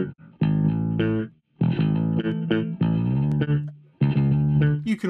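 Bass guitar played through the DI section of Logic Pro's Bass Amp Designer, several short plucked phrases with sustained notes separated by brief gaps, clean and up front with no voice.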